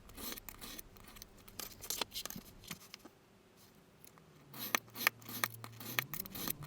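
Scissors snip off excess paper while a scrapbooking booklet is finished, with quiet, close, scattered cuts over a soft room hum and a short lull midway.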